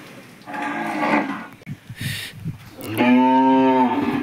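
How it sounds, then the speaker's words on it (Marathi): A cow, eager to go out grazing, gives a couple of loud, close moos, the second long and strongly tonal, with no talk. "तिथं ना राणीच्या पुढं कुट्टी तशी शिल्लक आहे, पण ती चरायला जाण्यामुळे सारखा आवाज देते."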